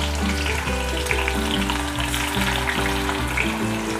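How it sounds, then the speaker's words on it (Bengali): Chopped onions frying in medium-hot oil over a gas flame for mutton korma, a steady loud sizzle with bubbling crackle throughout, close and continuous, no talking. "আমার পেঁয়াজ ভাজার মধ্যে তেলটা গরম হয়ে গেছে, এবারে পেঁয়াজের কুচুগুলো আস্তে আস্তে হাতে করে করে এভাবে ছড়িয়ে ছড়িয়ে দিতে হবে।"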